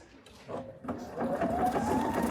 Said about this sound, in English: I'll ask the machine to do a tapered corner. And I'm going to go ahead and just stitch.